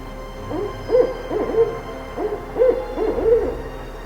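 A barred owl calling in a British Columbia forest, a rhythmic series of loud, close hooting notes in several grouped bursts over a faint steady background.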